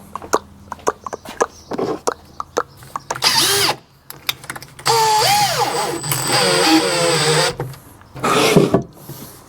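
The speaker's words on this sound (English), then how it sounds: "on there, lock that off, and then off you go drilling, and every hole is 5mm deep." Power drill boring a series of 5 mm deep holes with collet-style drill bit stops, heard as repeated short whirring bursts with clicks between them, close and loud, with no talk.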